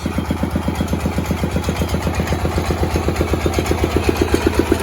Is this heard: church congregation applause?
no